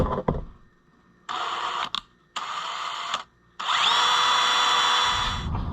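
A power drill spins a tiny bit during a John Deere B DLTX 67 carburetor rebuild, running in three separate bursts that stop abruptly between them, close and loud, with a high whine rising in the last burst.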